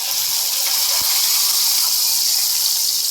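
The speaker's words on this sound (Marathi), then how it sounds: "फोडणीचा तडका छानपैकी द्या." Sizzling tempering of curry leaves poured over chutney for plain dosa: a steady, close hiss fills the whole stretch with no voices.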